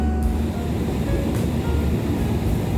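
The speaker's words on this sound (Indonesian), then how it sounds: "Dan beginilah suasana di ujung peron 4 stasiun Gambir." Station platform ambience at the far end of platform 4 at Gambir station, Jakarta: a loud, steady low rumble of rail traffic and machinery that fills the whole stretch without a break.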